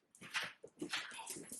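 A puppy whimpers and whines in short, high, broken cries close by, in a home where someone is threading a needle for hand sewing.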